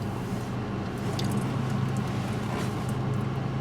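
A 2006 Mini JCW GP World Challenge race car idles or rolls steadily nearby, a constant low engine hum with faint light clicks above it.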